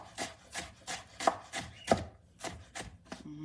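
A knife chops bitter gourd into small pieces on a board, about nine crisp, evenly spaced knocks close to the microphone with a faint background hum and no talking.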